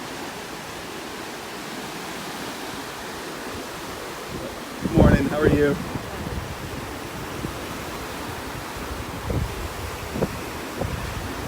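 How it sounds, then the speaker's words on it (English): Small ocean waves wash steadily onto a beach in North Naples, Florida, a soft continuous surf hiss with wind, while a person briefly greets someone partway through. "Some nice little waves out here this morning."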